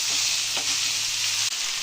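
Fried rice with coconut and chili flakes is stirred in a hot pan, a steady bright sizzle with faint scraping strokes of the spatula, close and continuous with no talking.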